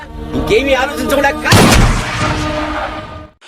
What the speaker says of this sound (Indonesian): hingga satu kesempatan Suhani langsung menembakkan tepat di atas kepala sebelah kanan pria tersebut.